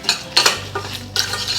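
A metal spoon stirs a curd rice tempering of green chillies, curry leaves and asafoetida in a pan, giving three or four quick scraping clinks over a faint sizzle, close and clear.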